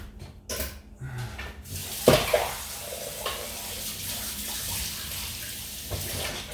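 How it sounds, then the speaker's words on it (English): Water runs from a kitchen tap as something is rinsed off, a steady splashing wash with a sharper clatter near the start, fairly close and alone, no talking. "I'm gonna rinse that off real quick."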